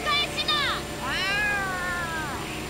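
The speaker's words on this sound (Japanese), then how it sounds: "この泥棒猫。" A cat meows in the video game Yakuza: Like A Dragon, two drawn-out, wavering cries, the second longer and falling, heard clearly over a low background bed of game sound.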